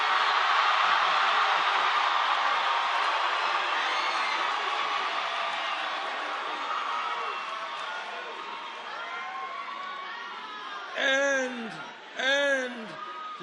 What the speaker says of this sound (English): And this is a loud crowd.